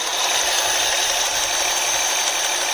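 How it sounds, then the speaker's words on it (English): A worn 2005 Mercury Sable Duratec engine runs with a steady, dense mechanical rattle and ticking, continuous and fairly loud throughout, with no voices over it. "I have an engine and it's making this sound. It's a Mercury Sable Duratec."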